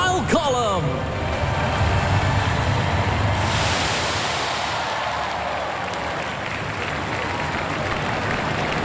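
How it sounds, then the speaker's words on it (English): A large outdoor crowd claps and cheers steadily for the Golden Jubilee Mobile Column at Singapore's 2015 National Day Parade, a dense broadband wash of applause lasting throughout, with a brief whistle-like sweep near the start. "let's give a round of applause to our Golden Jubilee Mobile Column"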